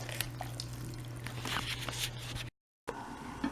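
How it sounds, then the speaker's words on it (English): Chicken dropped into hot oil in a Dutch pot for brown stew chicken, giving a close, wet squishing and sizzling crackle over a steady kitchen hum, with a brief dead-silent gap near the end. "I'm going to put this in the pot right now."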